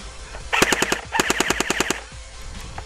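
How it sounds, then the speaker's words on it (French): An FN Herstal SCAR-L airsoft rifle on full auto, running on an 8.4 V battery, rattles off two quick bursts of sharp, closely spaced shots nearby, the second burst longer than the first, with quiet before and after. "je tire à blanc de l'auto"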